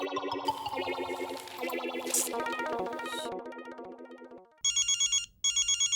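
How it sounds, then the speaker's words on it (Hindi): A phone rings with repeated electronic trilling bursts in a sitcom scene, following a stretch of loud, distorted music with effects. "ये देखो आ गया भिड़े का फोन।"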